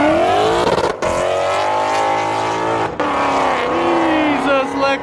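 A Lexus accelerates hard past onlookers at a Cars and Coffee meet in Cypress, its engine note rising loudly and close with a brief gear-change dip; people talk over it.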